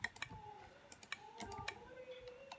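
A poor-quality computer mouse clicking during a BedWars game, quick close clicks scattered in small bursts over faint game sounds and background hum.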